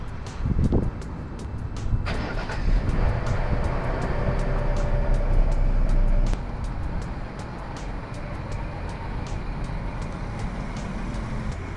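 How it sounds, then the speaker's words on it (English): A Ford Explorer ST idles on its stock exhaust, giving a steady, fairly loud low rumble close by with a sharp mechanical knock near the start and the level easing slightly after six seconds. "the stock exhaust."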